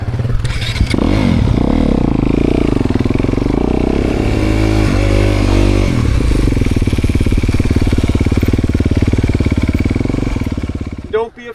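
Off-road dirt bike engine during adventure-bike skills training, loud and close, a steady throaty drone with some revving and clattering, continuous until it cuts off near the end, with talk over it.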